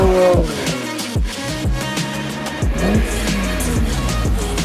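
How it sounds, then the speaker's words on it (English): A BMW E46 M3 spins a donut, its engine note rising and falling in a loud, continuous rasp with repeated revving sweeps close by. "First thing he does is pull out and do a donut."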